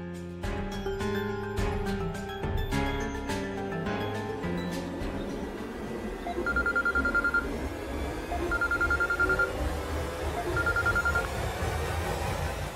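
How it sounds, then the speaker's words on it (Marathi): A telephone call is placed, and a ringing tone repeats three times at even intervals in the second half, following a stretch of soft tonal background sound with no speech. "बरं मणी, तुमच्या त्या वॉर्डन मॅडम आहेत ना, त्यांना जरा फोन लाव ना."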